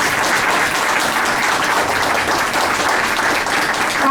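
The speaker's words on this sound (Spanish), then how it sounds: "lo recibimos con un fuerte aplauso" Conference audience applauding to welcome magistrate Rubén Arturo Sánchez Valencia to a lecture on international treaties, a loud, dense and steady round of clapping throughout.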